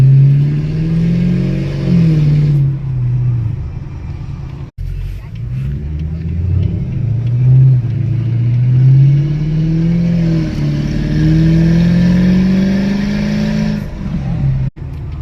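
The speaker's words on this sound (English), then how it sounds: "Just drive and then let us see the engine voice." An old Ferrari engine droning and revving up and down, pitch rising and falling in long sweeps, loud and close with a brief cut twice.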